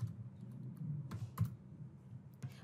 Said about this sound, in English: And here we are going to type slash new bot.